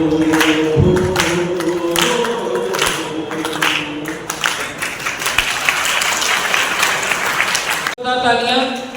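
Audience applause fills a commemoration gathering at a dharamshala in Jind, a steady crowd clapping that runs nearly throughout, with voices and a brief break near the end.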